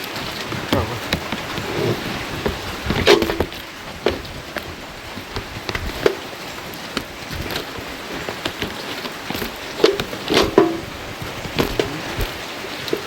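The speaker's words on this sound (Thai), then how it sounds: "ฝนตกพี่น้องเอ้ย" Steady rain falls on surfaces outdoors, a dense continuous patter with scattered louder drops and knocks, at moderate volume and with no talk.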